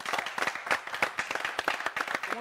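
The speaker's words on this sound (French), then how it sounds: "Rodney, applaudissements pour lui, s'il vous plaît." Studio audience on a Gabonese TV arts show applauds; dense, lively clapping from a nearby group, brisk and uneven, without speech.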